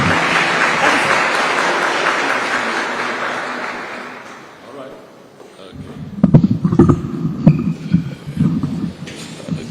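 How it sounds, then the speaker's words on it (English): An audience rises to applaud the Prime Cabinet Secretary and Minister for Diaspora Affairs at a call-centre launch: dense, full clapping fills the hall for several seconds, then thins and fades, giving way to scattered thumps and room noise. "let's be upstanding and clap for His Excellency, the Prime Cabinet Secretary and the Minister for Diaspora Affairs"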